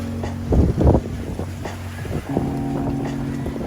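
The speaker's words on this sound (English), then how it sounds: "We got a northwest wind coming down now." Wind blows steadily across a sailboat running close-hauled on a reefed main during a solo long-distance sailing race, with rushing gusts and low hull and rigging rumble nearby, loud and continuous without speech.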